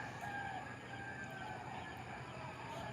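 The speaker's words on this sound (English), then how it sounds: "I want to kill the rooster" A rooster crows in the background, a drawn-out call under steady ambient noise, faint and somewhat distant with no talking over it.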